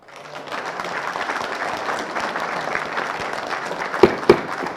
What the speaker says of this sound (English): Please, no applause, please.